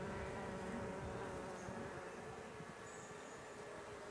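Saskatraz honey bees in an open hive, a dense, steady buzzing drone that is fairly faint and continuous, with no voices.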